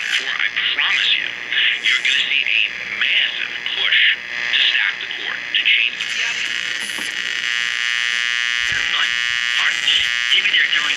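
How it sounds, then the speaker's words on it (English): A vintage Sansui 661 stereo receiver tuned to AM gives off a shrill, whining static with warbling tones and crackle, loud and continuous, with someone talking over part of it. "Picking up static, so go back to FM."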